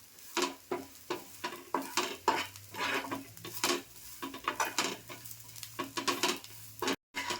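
Grated fresh coconut roasts in a pan while it is stirred, making soft sizzling and frequent scraping and clinking strokes against the metal in an irregular rhythm, close by and fairly quiet, with no speech.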